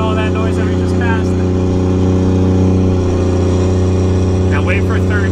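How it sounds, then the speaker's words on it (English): A 24v Cummins diesel with compound turbos and a second-gen manifold drones steadily from inside the cab, a deep, loud, even engine hum and turbo whine throughout, with a voice talking briefly over it at the start and end. "the sounds this thing makes with the second gen manifold and 2 turbos is pretty outstanding"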